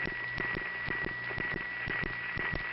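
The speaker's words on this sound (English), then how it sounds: "When a person who lives in this neighborhood has their line crossed with another person's line, and it's unbalanced, it hums." Steady electrical hum on an unbalanced crossed telephone line in a panel switching office, heard alone on the line as a continuous buzz with rhythmic clicking pulses running through it.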